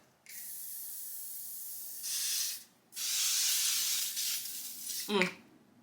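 Nearly empty makeup setting spray bottle spritzing close up, several hissing bursts of uneven length, ending with a short sputtering spray.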